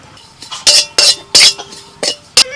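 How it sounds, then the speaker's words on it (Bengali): Dried kasuri methi leaves are tossed in a dry kadai in a series of sharp, rustling scrapes, about six loud bursts with short quiet gaps between them. "কসৌরি মেথিটাকে আমি একটুখানি শুকনো কড়াইতে ভেজে নেব।"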